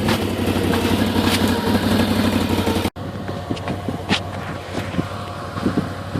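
An ATV engine rumbles steadily while riding through winter snow, loud and close, with a brief cut before continuing at a slightly lower, uneven drone with small knocks and bumps.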